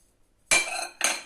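Two crisp knife chops through onion on a cutting board in a home kitchen, the first around midway and the second a half-second later, close and clear against near silence.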